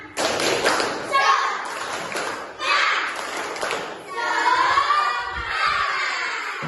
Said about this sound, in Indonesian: Kita lakukan tepuk semangat, oke?